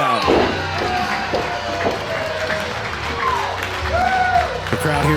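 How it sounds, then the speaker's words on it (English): A wrestling crowd at an indoor pro-wrestling event cheers and roars steadily as a wrestler makes his way into the ring, a continuous wash of crowd noise with bits of entrance music. "The crowd here at the pin, happy to see Blake making his way into the ring"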